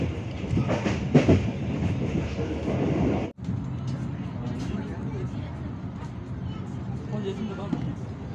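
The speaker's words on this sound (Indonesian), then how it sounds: "KA Bengawan sampai di stasiun Bekasi jam 6:24 menit." Inside the KA Bengawan passenger train on the Jakarta–Solo line, a steady rumble of wheels on rails goes on with rhythmic clickety-clack. It is briefly cut near the middle and then continues under a spoken voice.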